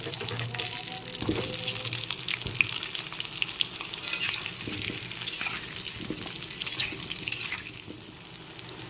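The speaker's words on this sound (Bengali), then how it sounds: "এখন এর মধ্যে আলুর টুকরোগুলো দিয়ে ভেজে নিতে হবে" Potato pieces frying in oil in a pan after pointed gourd was fried, a steady soft crackle and hiss with occasional stirring scrapes and clatter, close and continuous, no talking.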